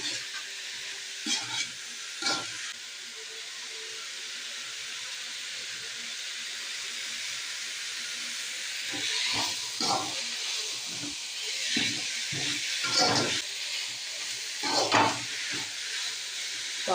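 Ponnanganni greens sautéing slowly over a gas stove, a continuous soft hiss of frying with scattered scraping stirs and clatters, louder toward the end, no talk.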